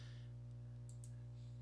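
Two quick, faint clicks of a computer mouse double-clicking, close by under a steady electrical hum.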